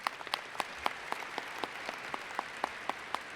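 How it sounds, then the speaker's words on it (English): Audience applause in a high school graduation hall, a faint, even patter of many hands with regular louder claps standing out. "Yeah, a round of applause for that."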